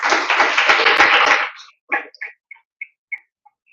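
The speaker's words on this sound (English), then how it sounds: "Everyone please give Advocates Online another round of applause." Audience applause at an awards ceremony: a loud, dense burst of clapping from many people that quickly dies away into a few scattered, isolated claps.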